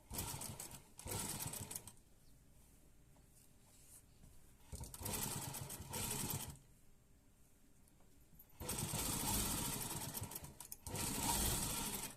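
A sewing machine stitches a straight seam along a V-shaped neckline on a garment, running in several loud rapid bursts separated by quiet pauses.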